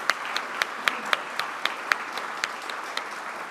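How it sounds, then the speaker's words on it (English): Audience at a Tulsa mayoral forum applauding, a soft steady patter of many hands with occasional louder individual claps, heard from a distance in a hall. "Another round of applause."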